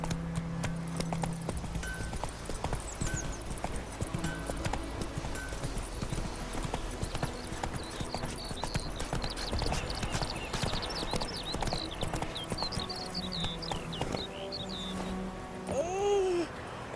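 Horse hooves clip-clop steadily at a walking pace in The Witcher 3 as Roach carries its rider, a busy game soundscape of ambient noise and faint birdsong running continuously underneath.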